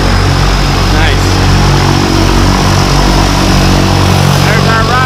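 Loud, steady drone of a skydiving airplane's propeller engine, close by and continuous, with people talking and cheering over it on the way to board.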